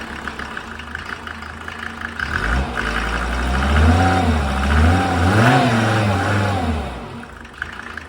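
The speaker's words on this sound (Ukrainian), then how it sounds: "А ну погазуй чуть-чуть." A Mercedes OM605 2.5-litre diesel engine with a mechanical injection pump, driving an irrigation pump, idling close by, then revved up in a few rising and falling surges before settling back to a steady idle.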